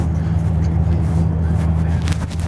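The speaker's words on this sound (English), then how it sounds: "Look at this car that's passing." A car passes at night, a loud steady low rumble of engine and road noise that stays close and even before easing slightly at the end, with no voices standing out.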